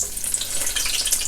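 Onion sizzling in hot oil heated for frying okra, a bright, dense crackling hiss that is close and constant.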